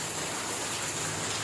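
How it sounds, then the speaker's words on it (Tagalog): Heavy rain pours down on New Year's Eve, a dense, steady hiss of water striking surfaces, close and constant with no voices. "Ang lakas ng ulan. Ayan. Grabe. Super lakas ng ulan dito."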